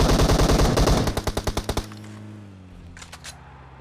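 Automatic gunfire in the PUBG Mobile battle-royale game: a loud, rapid burst of evenly spaced shots for about two seconds, then a few fading reports, a ringing tail and faint clicks, with no voices.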